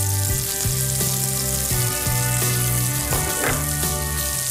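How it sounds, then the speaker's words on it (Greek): Thinly sliced jalapeños sizzle and fry steadily in a hot pan, a continuous close crackle with occasional stirring and faint tonal hum underneath. "Ένα γρήγορο σοτάρισμα."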